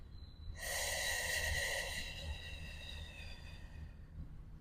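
A forceful exhalation, as if through a straw, during a morning posture exercise session: one long, breathy hissing outflow of air that starts abruptly, stays loud for over a second, then fades into a softer tail, heard close with no talk.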